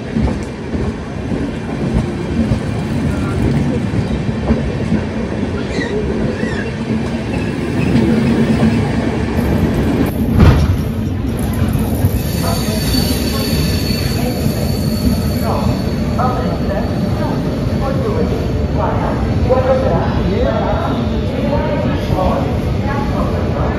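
Amritsar–Kochuveli superfast train running at night through Madhya Pradesh toward Ratlam Junction: a steady, loud onboard rumble and rattle of wheels on track, with a sharp metallic clank near the middle and faint voices underneath.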